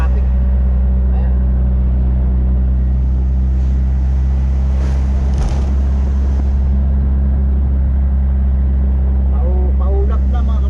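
A car moves fast along an open road near Tagaytay, with a constant loud low road and engine rumble heard from inside. Faint passing whooshes come through, and a voice speaks briefly near the end.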